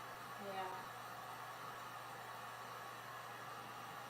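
A hair dryer blows steadily on fresh green paint, a constant low whooshing hum that stays even and moderately quiet from start to finish, with a faint brief voice-like tone near the beginning.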